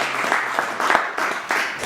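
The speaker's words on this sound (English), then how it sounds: "So let's give him a round of applause." Audience applause welcoming the state apiarist at a club meeting, a short burst of clapping from a small crowd with a few louder accents, fairly close and steady.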